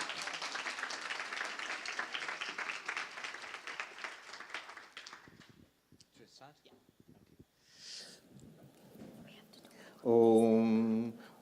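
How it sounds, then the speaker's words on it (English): An audience applauding at a spiritual conference, steady clapping for about five seconds that thins out into scattered claps, followed by quiet murmurs and then a voice beginning to chant. "a round of applause for Swamiji,"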